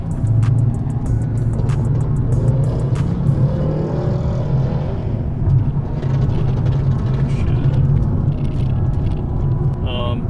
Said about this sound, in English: This is probably a really good time to show you how well it accelerates.